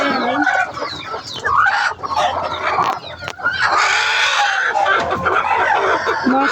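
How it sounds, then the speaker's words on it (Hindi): Hens in a chicken coop cluck and squawk close by in repeated agitated bursts, with rustling movement around them. "देखती हूँ मुर्गी ने अंडे दिए या नहीं"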